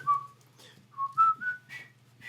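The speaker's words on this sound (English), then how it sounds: "I want to whistle." A person whistling a short tune, several clear rising and falling notes in a few phrases, close and fairly quiet, with no talk.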